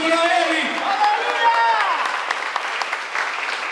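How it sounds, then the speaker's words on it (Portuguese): Church congregation at a New Year's Eve service applauding and cheering, dense clapping with shouts of joy and voices rising together, loud and sustained throughout. "dá um aplauso ao Senhor e dá um grito de júbilo a Ele"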